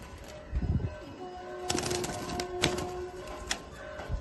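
Pigeons in a loft give soft cooing calls amid light tapping and clicking noises, all fairly quiet and close by.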